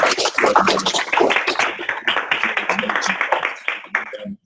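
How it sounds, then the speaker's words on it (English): An audience at a business networking event gives a round of applause, dense clapping filling the room with voices mixed in before it thins out at the end. "So how about a round of applause for 5 extraordinary people."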